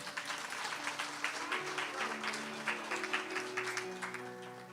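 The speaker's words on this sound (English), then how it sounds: "let's give Sophie a round of applause" An audience applauds Sophie at a religious gathering, a steady wash of many hands clapping throughout with some tonal sound running underneath.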